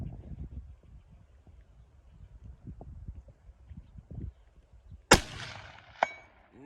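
A single loud rifle crack during a deer hunt breaks a quiet stretch of faint rustling and handling noise, followed about a second later by a weaker sharp report or ring.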